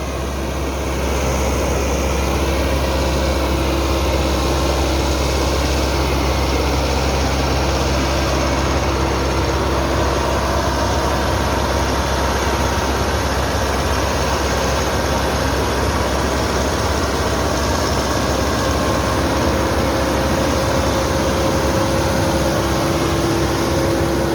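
A new Massey Ferguson MF 385 tractor runs its engine in a continuous, loud, close low drone that holds steady like an idle, with no talking.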